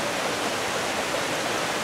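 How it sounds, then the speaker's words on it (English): Water from several small streams rushes steadily under a bridge at Discovery Cove in Orlando, Florida, a loud, even broadband wash with no talk over it. "all the water from all these little mini streams going under this bridge out to here"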